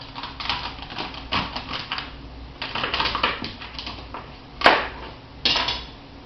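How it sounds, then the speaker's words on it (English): A dull knife chopping celery stalks on a cutting board: a run of irregular thuds and crisp crunches up close, with a couple of louder cuts near the end and no talking. "I'm going to cut a bunch of celery up."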